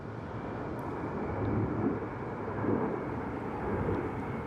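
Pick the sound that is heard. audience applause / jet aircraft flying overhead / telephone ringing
jet aircraft flying overhead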